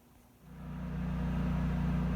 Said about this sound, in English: That sound you hear in the background is a generator.